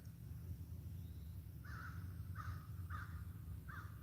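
A crow caws four times in an evenly spaced series, mid-distance and fairly clear, over a constant low outdoor rumble with no talking.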